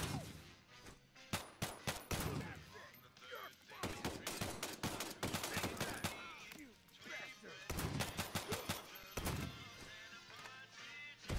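Rapid bursts of video game gunfire from The Day Before crackle and pop in dense volleys, with heavy impacts and grenade blasts mixed in, loud and continuous with short lulls.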